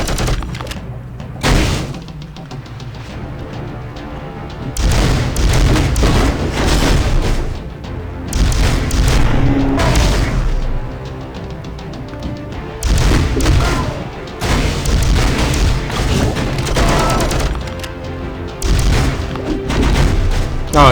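Rocket blasts in the mobile game Marvel Future Fight: repeated booming explosions in loud clustered bursts separated by short quieter gaps, with game music running underneath.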